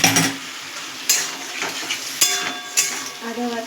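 Spice paste of ground ginger, chili, garlic, cumin, salt and turmeric sizzles in a pan as a utensil stirs and scrapes it, with several sharp clinks and scrapes over a steady frying hiss.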